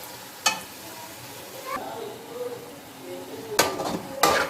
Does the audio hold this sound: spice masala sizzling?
yes